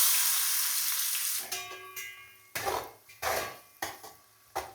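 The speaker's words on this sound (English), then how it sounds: "Heat a pan and heat some mustard oil. Add a few whole spices. Two chopped onions." Chopped onions dropped into hot mustard oil with whole spices: a loud initial hiss fades, then several distinct stirring scrapes against the pan at irregular intervals over a soft sizzle, close up with no talk.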